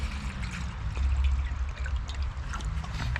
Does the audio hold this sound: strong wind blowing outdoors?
no